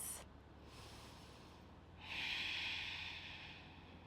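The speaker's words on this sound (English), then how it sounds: "just taking a few more deep breaths" A person takes slow, deep breaths while holding a hatha yoga pose: a soft, airy inhale followed by a longer, breathier exhale, close and quiet in a still room.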